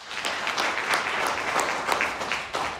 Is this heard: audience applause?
yes